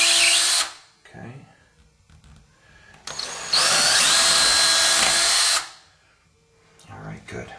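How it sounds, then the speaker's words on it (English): A power drill whines loudly in a brief burst, then again in a longer, sustained run, boring through hardwood floor into the subfloor. Quieter handling and a voice fill the gap between them. "do I really want to drill into my hardwood floors?"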